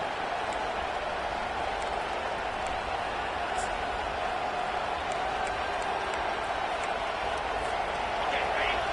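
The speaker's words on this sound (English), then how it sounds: "Here comes this home crowd as the defense tries to get off the field on third down." Home crowd at a college football game cheering as the defense tries to get off the field on third down, a steady dense roar throughout under a play-by-play commentator's voice.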